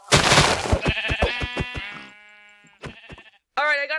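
Minecraft sheep bleat in a game, several wavering harmonic calls close up and fairly loud, with a voice also present.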